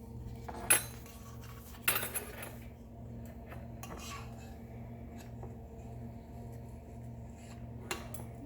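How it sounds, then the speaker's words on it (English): A measuring teaspoon scrapes and clinks against a container while scooping a dry baking ingredient, giving a few sharp metallic taps among soft, quiet scraping in a home kitchen. "So you scoop it up and you rub it up against there."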